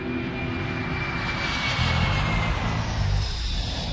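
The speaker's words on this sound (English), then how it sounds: "Flight 593 takes off at 4:39 p.m. local time." A Soviet-built airliner of Aeroflot Flight 593 takes off, its jet engines producing a loud, steady roar that swells and rumbles throughout, with no voices over it.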